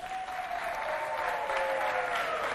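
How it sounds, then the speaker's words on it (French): Steady, fairly loud audience clapping for an artist at a children's foundation event, a continuous wash of hands with a voice speaking faintly over it. "on l'applaudit bien fort"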